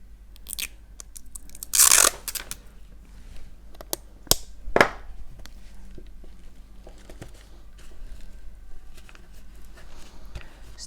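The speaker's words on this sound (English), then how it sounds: "so I'm going to just put a little bit of tape on the back here" Tape being pulled from a roll and pressed onto the back of torn paper, with a sharp ripping burst, a few crisp crinkles and taps, and quiet rustling between them, close and without talking.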